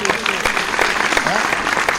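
Audience applause at a ceremony honouring a chairman during an Independence Day mushaira in Khatauli, Muzaffarnagar: steady, dense clapping throughout, with voices mixed in.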